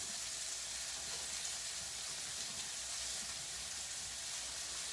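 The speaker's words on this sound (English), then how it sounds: "so while this round is browning" Pieces of steak for a steak pie sizzle and brown in a hot pan, giving a steady, even crackling hiss with no pauses.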